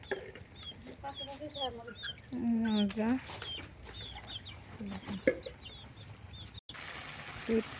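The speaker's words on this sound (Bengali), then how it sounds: "হ্যাঁ, আমার আশেপাশে ঘুরে মুরগিগুলো।" Chickens clucking and calling nearby in a village kitchen yard, with repeated short clucks and a longer drawn-out call, mixed with a person's speech and cooking noises close by.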